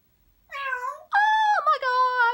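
A parrot imitates a cat's meow on command, giving a short mewing call and then a longer, wavering meow. The calls are clear and close, with a quiet background and no talking over them.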